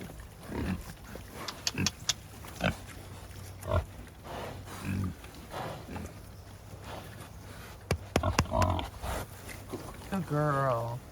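A sow grunting on a farm while being coaxed along, short low grunts scattered throughout, with a person talking to her and a longer squealing call near the end.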